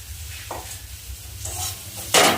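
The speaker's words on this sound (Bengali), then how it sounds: "মশলাটা আমি ভালো করে ভেজে নিয়েছি এবার মাছগুলো দিয়ে দেবো" Fish sizzling and being stirred in spiced paste for ailer bhorta, with scraping utensil strokes over a steady frying hiss that flares loudly near the end; no voices.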